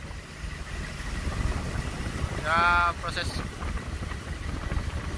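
The ship MV Barito Mas unberths with its engine and propeller running, a low steady rumble and water churn throughout, joined briefly by a rising whistle-like tone midway, while someone talks over it.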